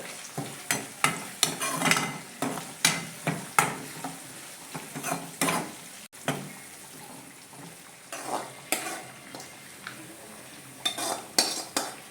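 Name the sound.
stirring avoli fish curry with chili powder and turmeric in pan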